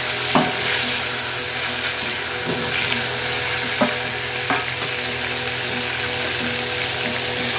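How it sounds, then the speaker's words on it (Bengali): Shrimp being lightly fried in a pan hiss in a constant loud sizzle, with occasional scraping knocks of a utensil as they are stirred, no voices. "এই জন্য হালকা করে চিংড়ি মাছটা ভেজে নিই।"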